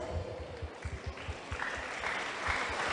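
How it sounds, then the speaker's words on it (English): Audience applause fills the room at a school English debate between two colleges, a faint, steady patter of clapping that swells slightly in its second half with no speech over it. "Ladies and gentlemen, please give them a round of applause."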